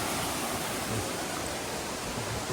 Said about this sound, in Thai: มีบ่อน้ำมีน้ำตกไหลลงมา